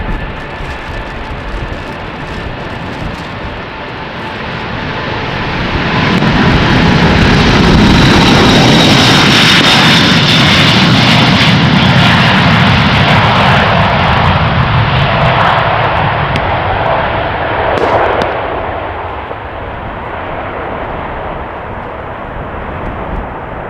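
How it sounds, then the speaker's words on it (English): A Delta Airbus A330neo airliner taking off from Schiphol runway 36L on a showery morning, its engine roar building into a loud, sustained rumble that peaks mid-pass and then slowly fades as it climbs away. "Alright, Delta A330 Neo."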